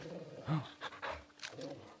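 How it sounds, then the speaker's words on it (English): Torgal, a dog in the video game Final Fantasy XVI, pants in a few quick, breathy bursts with a faint whine, fairly close and moderately loud, over soft game ambience. "listen to Torgal. I'm just loading up on my dog"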